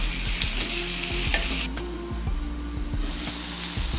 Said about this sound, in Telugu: ఇప్పుడు మనం టమాటా పండు వేసేద్దాం.